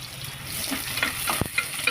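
Onion frying with cumin and bay leaf in oil, a close, continuous sizzle with a spoon stirring and scraping through it, plus one sharper knock near the end.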